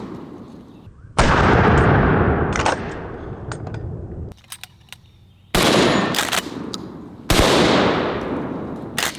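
A trench gun shotgun fires at sporting clays thrown from a Shoot Steel clay popper: three loud, close blasts, each with a long ringing decay, with a sharper pop and a few mechanical clicks between them.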